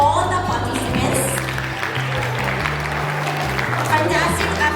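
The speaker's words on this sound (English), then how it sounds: "Give them a huge round of applause for all the participants." Steady round of applause for school quiz competition participants, continuous crowd clapping over a low background of music throughout.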